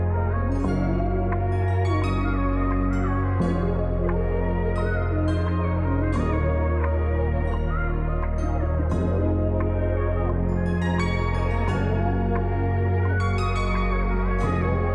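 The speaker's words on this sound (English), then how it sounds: "An element to lift the B section of this loop was to play in a keys part." Full, continuous band loop with layered keyboard chords on top, steady drums and bass underneath, loud and dense throughout.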